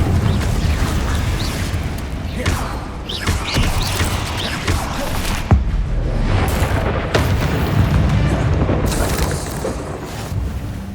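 Confringo spell explosions in the Hogwarts Legacy video game, dense booming blasts and crackling bursts that fill the whole stretch loudly, with scattered sharp impacts.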